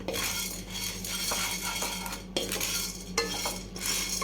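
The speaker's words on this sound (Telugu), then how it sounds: "కొద్దిగా శనగపప్పును వేయించుకోవాలి." Chana dal and urad dal frying in a pan, with metal utensils scraping and clinking against the pan in quiet, irregular strokes under a faint steady hiss.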